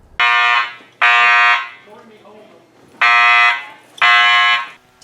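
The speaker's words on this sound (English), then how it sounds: "the fire alarm in Carroll High School went off" A school fire alarm blaring indoors at Carroll High School, loud harsh buzzing tones sounding in four long pulses of about half a second each, with a gap between the second and third pulse and faint voices in the quiet stretches.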